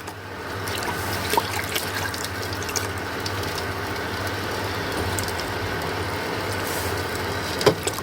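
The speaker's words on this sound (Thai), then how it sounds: "เราเติมน้ำส่วนที่เหลือลงไปได้เลยนะคะ" Water poured into a pot on the stove while making sugar syrup, a steady close trickle and splash over a low background hum, with a few faint clinks.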